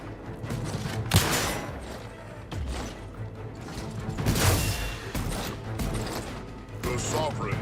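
Shotgun fire in the sci-fi shooter The Outer Worlds 2, heavy blasts and clattering mechanical bursts over busy game sound and music, with a voice talking throughout.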